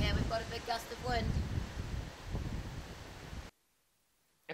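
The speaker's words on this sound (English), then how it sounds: "we've got a big gust of wind." A strong outdoor gust of wind buffets a Sony ECM-CG60 shotgun microphone with loud, low rumbling that masks a voice speaking over it. Then it drops sharply to near silence.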